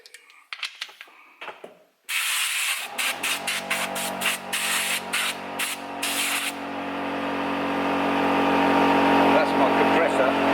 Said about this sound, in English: my compressor.